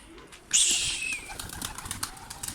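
Pigeons, including a half-sider, burst into flight with a sudden loud flurry of flapping wings that fades into scattered softer flutters and rustling nearby.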